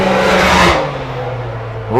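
A Can-Am Maverick X3 side-by-side race car at a Sunday SGORA 200 off-road race roars past close by, engine pitch dropping sharply in a quick doppler sweep, then fading as another vehicle approaches.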